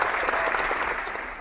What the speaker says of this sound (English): I'm going to give both of you a round of applause.